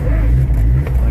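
A Honda car engine with an OBD1 ECU and an aftermarket chip idles close by, giving a steady, deep rumble that holds even throughout the short stretch.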